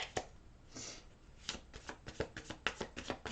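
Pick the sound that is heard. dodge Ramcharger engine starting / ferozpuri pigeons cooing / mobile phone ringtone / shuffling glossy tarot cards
shuffling glossy tarot cards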